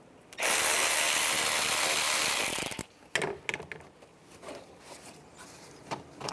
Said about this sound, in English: use a 7mm socket, loosen up this worm clamp right here, and also up here.